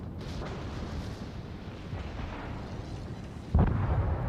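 A warship's main gun fires in World of Warships, a deep rumbling boom that hits suddenly near the end over a constant low battle roar, loud and close with no talking.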